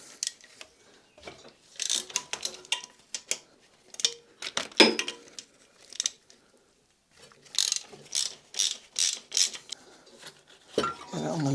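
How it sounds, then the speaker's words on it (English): A ratchet works a bracket bolt loose on a flood-damaged Mercedes engine, with close bursts of rapid metallic clicking between quiet gaps and a few clinks of tools. "Undo that other bracket as well that's tucked down there."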